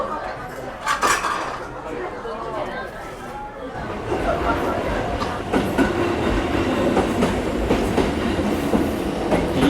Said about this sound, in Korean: 이량짜리 기차가